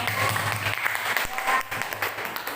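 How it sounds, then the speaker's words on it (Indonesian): Classroom applause for a student group that has just finished presenting, a steady wash of clapping from many hands that carries through the whole stretch at even, moderate loudness before easing slightly toward the end. "berikan tepuk tangan bagi kelompok"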